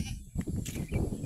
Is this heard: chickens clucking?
no